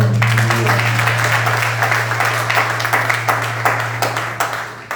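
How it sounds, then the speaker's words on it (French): Applause from a gathering rises over a steady low hum, with many hands clapping in an irregular, moderately loud patter that continues for several seconds, and no voices. "nous avons un plus bel applaudissement"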